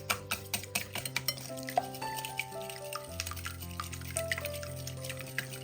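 Eggs and sugar being beaten in a bowl with a spoon or whisk, a run of quick rhythmic taps and scrapes close by, then softer stirring under quiet background music.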